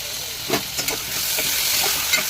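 Tomatoes sautéing in a pan after onions, with a continuous loud hiss of frying and a few soft spatula scrapes, close and alone.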